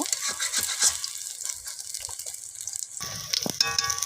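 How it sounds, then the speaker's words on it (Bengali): Pumpkin flower fritters frying in hot oil, a steady sizzling hiss throughout with brief louder crackles and a burst of bubbling near the end, close and moderately loud. "এইভাবেই লাল লাল করে ভেজে নেব"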